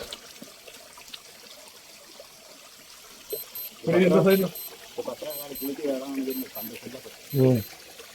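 Water trickles and pours steadily at the Bhadrakali Kundu pool in Malaikkode, a soft continuous flow in the background while someone talks over it in several bursts.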